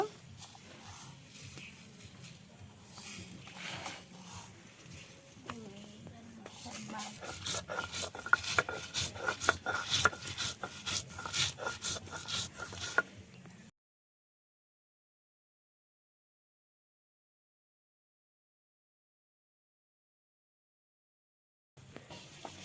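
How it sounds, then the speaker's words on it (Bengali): Garlic cloves are crushed with steady rubbing and rasping strokes that grow denser and louder for several seconds before stopping abruptly into silence. "এই যে রসুনগুলো থেতলে দিয়ে দিচ্ছি"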